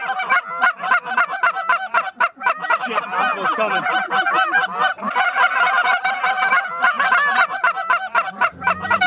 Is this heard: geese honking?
yes